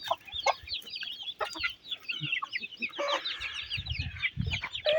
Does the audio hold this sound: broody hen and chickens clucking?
yes